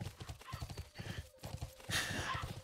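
Horse hooves clip-clopping steadily in the Bless Online video game, a quick even trot close up, with a brief whinny-like squeal near the end.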